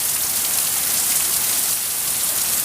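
Heavy Hurricane Zeta rain on the Gulf Coast pours off a house roof beside a driveway, a dense, steady, close roar of water with no pauses and no voices.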